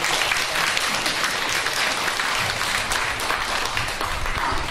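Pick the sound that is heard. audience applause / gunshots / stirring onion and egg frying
audience applause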